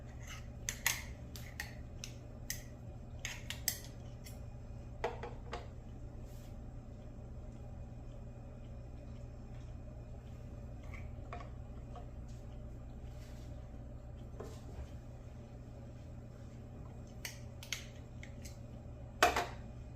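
Lard is pulled from its packaging for scratch biscuits: soft, scattered snips and crinkles, a few sharper clicks near the start and end, over a steady low kitchen hum.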